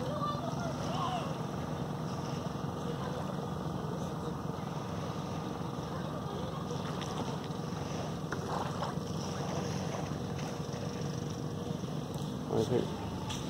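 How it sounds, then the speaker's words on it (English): Engine of a bangka, a traditional Philippine outrigger boat at Port Barton, Palawan, a steady droning motor running throughout with wind buffeting the microphone. "bangkas are a very traditional boat in"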